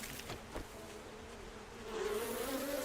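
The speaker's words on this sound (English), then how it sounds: "the bees are not just in the desert after all, it appears" Bees buzz steadily in the survival video game 7 Days To Die, a close, continuous droning hum that swells louder near the end, with no talking over it.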